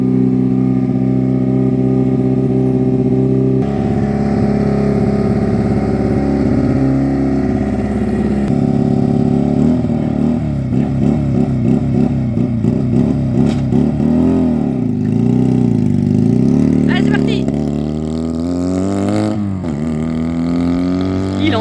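A motorcycle engine revs loudly and close by outdoors, its steady droning tone rising and falling through several throttle swells, with a car also part of the noisy scene.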